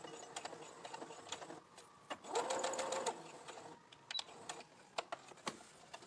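Sewing machine reverse stitching at the edge of a fabric mask, rapid quiet mechanical clatter in short bursts with brief pauses, close and soft.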